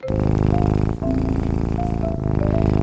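A loud, continuous purr rumbles close by with a steady low vibrating texture, briefly pausing for a breath before resuming.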